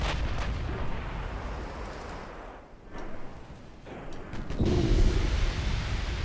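Warship turret guns firing in a naval video game, heavy booming reports with rumbling decay, several shots spaced over a few seconds, the loudest near the end, no talk.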